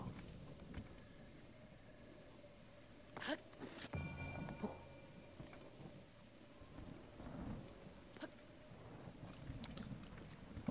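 Steady rain with rumbles of thunder in the video game The Legend of Zelda: Breath of the Wild, a moderately faint storm bed with a louder thunder swell midway.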